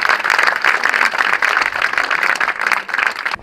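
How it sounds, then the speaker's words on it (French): Audience applause for volunteers at a 2022 local inauguration ceremony, a steady dense clapping from a crowd that carries on without a break, loud and close, with no voices heard. "et on peut les applaudir."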